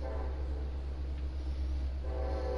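A train in the video game Final Fantasy XV rumbles along with a deep steady low drone and a rolling hum of carriages, held constant for a couple of seconds.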